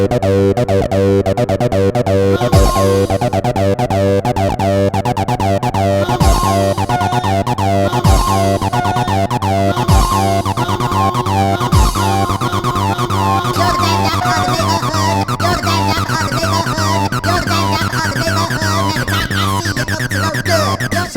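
Synth track built entirely on a Donner B1, a modern TB-303-style bass synthesizer, with steady repeating bass notes, squelchy acid lines and brighter lead tones layered over a constant loud groove.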